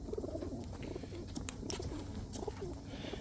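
Several pigeons in a loft coo softly in a low, rolling murmur, with a few brief rustles and flutters mixed in, fairly close by.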